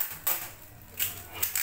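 Packing tape is pulled and stuck down while an order of semprong egg roll molds is packed, giving three short, loud ripping rasps spaced apart over a quiet background.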